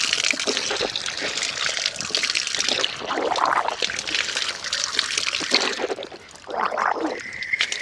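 Water splashes and trickles steadily at close range as the mouth is rinsed during wudu ablution, a continuous wet rush with a few brief swells and no talk.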